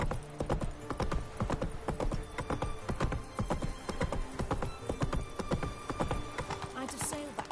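A horse's hooves clip-clop in a brisk, continuous rhythm throughout a stretch of The Witcher 3 video game, with speech and game sounds layered over the steady hoofbeats.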